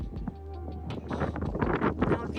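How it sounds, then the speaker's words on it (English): Strong wind gusts across an open new-home construction site in Frisco, Texas, with a continuous low, blustery rumble buffeting the microphone that grows rougher and louder toward the end. "it's so windy, hope y'all can hear me."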